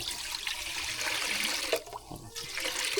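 Water rushing and bubbling in a wok, heated to boil frogs in a rural Philippine kitchen, a steady close churning hiss that briefly dips before resuming.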